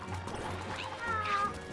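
A cat meows in Super Mario 3D World, a short, bright game sound effect heard under steady background game music, with no one talking over it.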